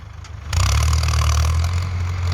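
A Ford 6600 tractor engine pushing soil to fill a pond and level ground for a watermelon field, a quieter rumble swelling at half a second into a loud, steady, close-up drone with no talk.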